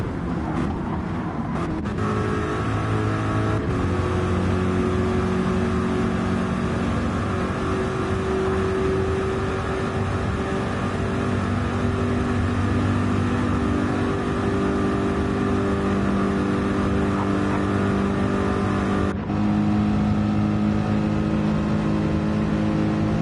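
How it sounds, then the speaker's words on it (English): A Mercedes-AMG race car engine in the video game Gran Turismo drones steadily at high revs for a long stretch, with a couple of brief gear-shift dips, loud and alone. "That AMG is just such a dirty noise"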